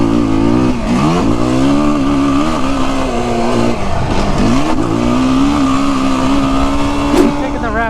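Yamaha YFZ450R Raptor ATV, fitted with new A-arms and suspension, being ridden, its engine a loud close drone that rises and falls with throttle blips and revving throughout.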